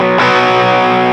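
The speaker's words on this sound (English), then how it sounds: "the pickup is switched to the bridge, some distortion goes on at the same time" An electric guitar on its bridge pickup with distortion switched on: one loud, heavily overdriven chord is struck and rings on with a thick, buzzing sustain.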